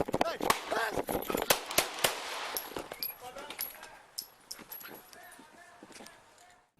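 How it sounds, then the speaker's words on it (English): Several sharp handgun shots ring out during a police shooting, a series of loud cracks close together amid shouting voices, followed by quieter background noise. "the first shot you hear was fired by Omar, and the last 3 by the officer"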